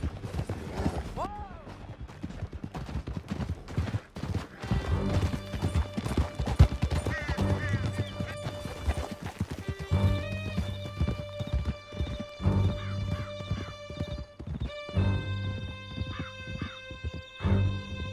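Galloping horse hoofbeats in the open-world western video game Red Dead Redemption 2, a steady clip-clop running under a game score with music and ambience throughout, with a brief whinny near the start.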